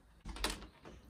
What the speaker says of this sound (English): Don't slam the door, it shakes the room.